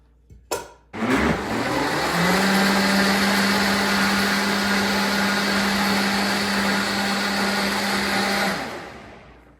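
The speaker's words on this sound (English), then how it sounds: "we're gonna run it through the blender" A blender whirs loudly and steadily for several seconds after a brief clunk, blending potato leek soup, its motor holding a constant pitch before cutting off.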